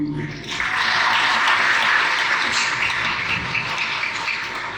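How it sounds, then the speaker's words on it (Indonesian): Sustained audience applause at a religious lecture by an Islamic cleric, a dense steady wash of many hands clapping that swells after a brief opening and holds loud for several seconds. "Tolong jangan tepuk tangan."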